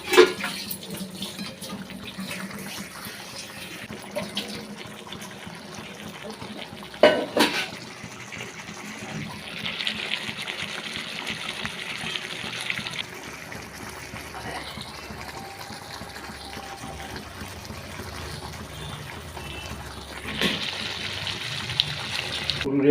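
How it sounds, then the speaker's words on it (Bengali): Water is poured into a thick egg curry gravy cooking in a pan, brief splashing and gushing bursts amid quieter kitchen sounds, with a voice speaking at times. "তখন পুরো জলটা দিয়ে ঝোল বানাবো"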